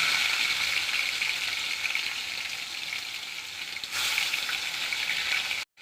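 Onion, tomato and spices sautéing in a pan for chicken chettinad, a loud, steady close-up sizzle and hiss throughout, briefly swelling midway and cutting off abruptly at the end.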